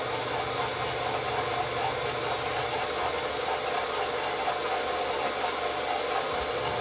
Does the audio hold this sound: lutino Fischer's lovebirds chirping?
no